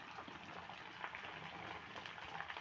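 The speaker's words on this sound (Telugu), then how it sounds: "కరివేపాకు వేసుకుంటాం ఇప్పుడు బెండకాయ వేసాం" Okra frying in a pan with curry leaves, a steady close sizzle with soft popping crackles running throughout, no voices over it.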